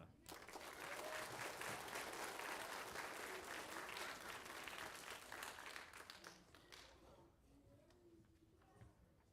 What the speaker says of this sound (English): One more round of applause for 5th period.